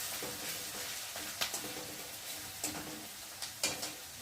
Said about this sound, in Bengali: পেঁয়াজ আর রসুনটা একটু লাল লাল করে ভেজে নেবে।